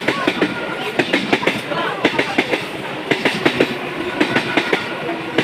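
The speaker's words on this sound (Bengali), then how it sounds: "আমার ট্রেনটিও ইতিমধ্যে চলে এসেছে" A train arrives at Gede station with a loud, rhythmic clickety-clack of wheels over rail joints, close by and continuous, with station noise around it.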